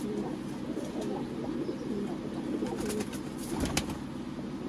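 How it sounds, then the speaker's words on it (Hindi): Sialkoti pigeons, male and female, coo in low throaty rolls close by, with soft rustling and a few faint chirps in a continuous murmur. "सियालकोटी कबूतर"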